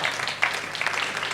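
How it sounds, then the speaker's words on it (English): An audience at a Melbourne Knowledge Week 2019 panel event claps steadily, a dense even patter of many hands with no voices over it. "keep it clapping"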